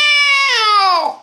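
A voice imitates a cat's meow, giving one loud, sustained, whining call that slides downward and fades at the end.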